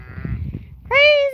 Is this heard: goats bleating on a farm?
yes